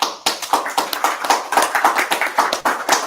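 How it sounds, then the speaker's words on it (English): Rhythmic, closely miked clapping from a conference audience at a Polish community congress in London, sharp regular claps roughly four per second, loud and without talk. "So thanks for that applause."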